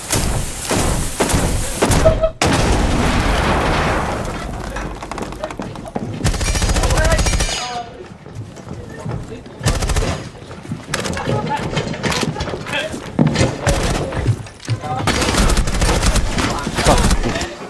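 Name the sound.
grenade explosion and gunfire in video game Dead Island 2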